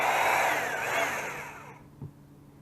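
A cordless drill whirs steadily up close while boring pilot holes for screws into wood for a shelf in a TrailManor camper, its whine dipping slightly as it bites, then cutting off abruptly and followed by a soft knock.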